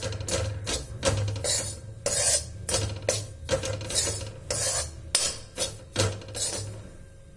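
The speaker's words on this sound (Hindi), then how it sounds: "तो यहाँ पे मैं बना रही हूँ अपने बेसन को मतलब अच्छी तरह से भून रही हूँ।" A spoon scrapes and stirs gram flour (besan) roasting in ghee in a pan for besan halwa, giving steady rhythmic scraping and clinking strokes, close and fairly loud, with no voices.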